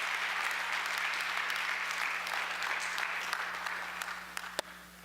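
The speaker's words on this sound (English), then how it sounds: "Give a round of applause to Art Finch for everything he's done all these years." Indoor audience applause for Art Finch swells as a dense, steady wash of many hands clapping, with a few sharper individual claps standing out near the end.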